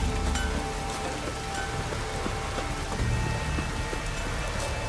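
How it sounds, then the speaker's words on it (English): Steady rain pours down in The Witcher 3 video game, a constant dense patter of drops on surfaces with no breaks, fairly loud and alone without voices. "Oh, raining again."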